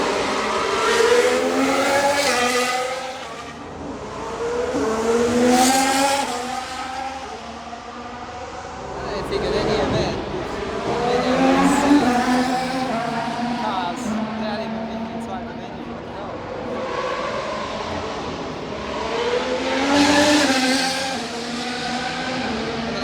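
Formula 1 cars scream past one after another at a street circuit during the Azerbaijan Grand Prix, each engine note rising and falling as it passes near and fades, recurring every few seconds.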